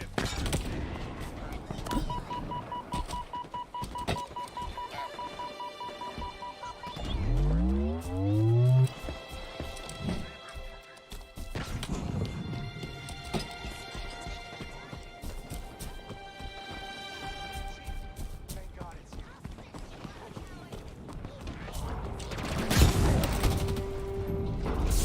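Halo Infinite gameplay with Jackal sniper fire: a busy game mix carrying bursts of gunfire and impacts, with a sweeping tonal effect near the middle and steady background effects throughout.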